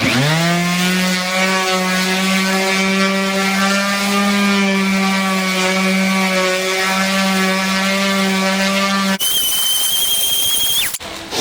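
A power sander runs on the bottom of a wooden bowl being restored, giving a loud, steady motor whine that holds for about nine seconds before shifting to a harsher, noisier grinding tone near the end.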